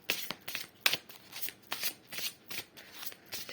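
An oracle card deck being handled as a card is drawn, with a run of soft papery riffles and rustles recurring about every half second, close and fairly quiet.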